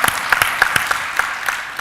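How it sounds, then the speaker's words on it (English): A live audience at an MIT fireside chat claps for a short burst, a dense patter of overlapping hand claps at moderate loudness, fairly close and without talk. "everybody needs to give a huge round of applause for a middle school student"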